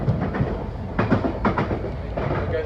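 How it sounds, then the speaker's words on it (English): Westbound London Underground train passing on the Piccadilly line near the North Circular Road, a steady rumble with rhythmic clattering bursts that rise and fall, heard from inside a nearby train. "There goes a westbound train"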